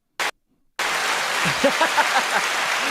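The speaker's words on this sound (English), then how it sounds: "Hear those people clapping?" After a brief burst and a moment of silence, a crowd claps in a dense, steady patter that continues to the end, with faint voices underneath.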